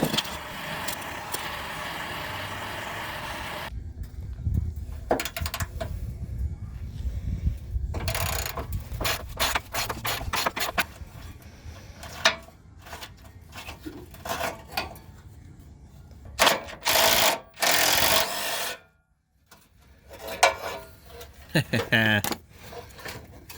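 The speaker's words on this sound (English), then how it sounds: "Cheated with a little impact driver" Short bursts from a small impact driver rattle off sway bar bolts beneath a Jeep ZJ, loud and close, with gaps of quieter workshop handling, clinks and shuffling between them.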